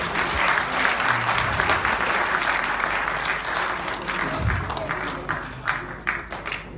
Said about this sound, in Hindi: वरना इतनी कम तालियां बजे तो मैं तकरीर नहीं किया करता